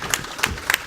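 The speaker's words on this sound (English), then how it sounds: "A round of applause." Brief applause from an audience at a plenary conference session, a second of scattered clapping with a few distinct claps.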